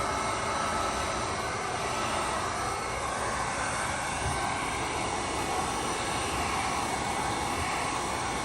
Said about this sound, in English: Now we're going to heat this vinyl up with an industrial commercial heater from Wagner.